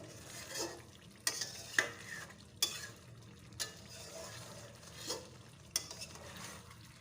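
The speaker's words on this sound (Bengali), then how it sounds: "তো এবার আমি ভালো করে নাড়াচাড়া করে নেব" Chicken pieces and onions are stirred as they fry for chicken kosha, giving a steady low sizzle broken by several sharp scrapes and clacks of the spoon against the pan, close and fairly quiet.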